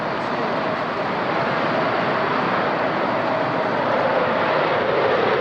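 Jet aircraft on its takeoff run at the Farnborough 2004 airshow, two General Electric turbofans in reheat producing a steady, loud, broadband roar that holds constant throughout.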